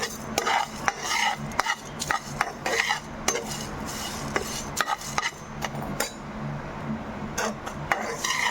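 Curry leaves dry-fried without oil in a pan for kura karam podi, stirred with a spatula that scrapes and clatters in quick uneven strokes against the metal, close and fairly loud.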